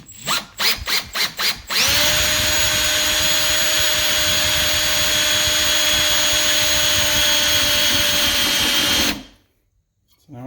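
A power drill with a center drill bit bores into a steel mower hitch. Several quick trigger bursts come first, then a long, steady, loud high whine for about seven seconds, ending in near silence with a faint sound at the end.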